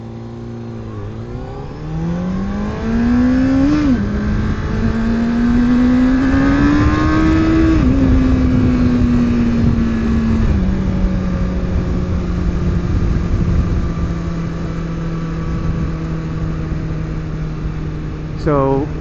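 A motorcycle accelerating hard away from cars onto a freeway, the engine note climbing through gears in steady loud rises under constant wind and road roar.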